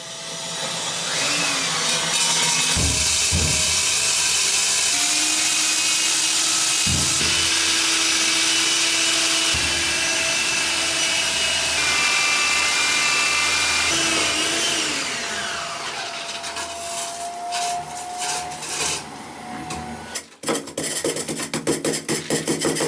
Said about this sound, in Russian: То есть чистое время сверления меньше 3 минут, правильно?